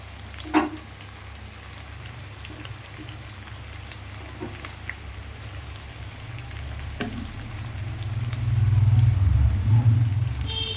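Garlic and onion fry in oil, with a steady soft sizzle and occasional stirring scrapes and clinks, growing louder and fuller toward the end.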